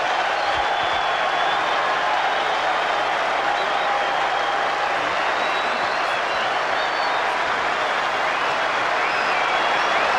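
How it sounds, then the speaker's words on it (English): A cricket crowd at Edgbaston applauds Graham Thorpe's double century in a 1997 Ashes Test against Australia, with steady, dense clapping and cheering that carries on unbroken throughout. "The crowd love it."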